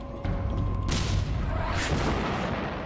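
Tank gun firing at an enemy vehicle in battle, a heavy booming blast that swells into a long, rumbling roar lasting a few seconds.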